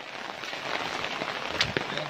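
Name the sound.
heavy rain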